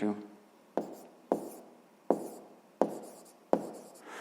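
A pen scratches across paper in about six short, crisp strokes that follow one another in quick, uneven succession, close and fairly quiet.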